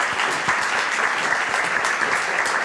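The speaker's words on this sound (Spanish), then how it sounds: "Un aplauso para la Magda, por favor" Applause from a seminar audience greets the third panelist, a psychology doctor, as she is introduced at an education panel; steady, dense clapping fills the room throughout without talk.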